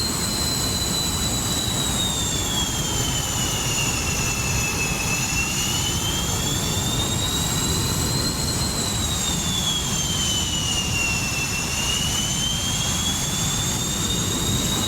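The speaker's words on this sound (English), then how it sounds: "I think that's a J57 that I hear" A Pratt & Whitney J57 jet engine runs continuously and loudly, a dense roar with a high whine that slowly rises and falls in pitch throughout.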